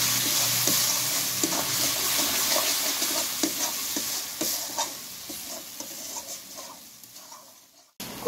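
Taro being stirred in spice masala in a pan without added water, cooked alongside prawns: a continuous close sizzle with a steady run of spatula scrapes and taps, fading slightly before ending abruptly, with no voices.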